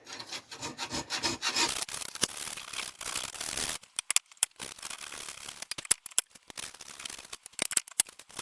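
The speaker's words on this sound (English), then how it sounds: "these hacksaw cuts leave some scratches in the inner pin" A hacksaw rasps back and forth through a metal suspension pin, first in a steady run of close strokes, then in shorter, irregular scraping bursts separated by quiet gaps.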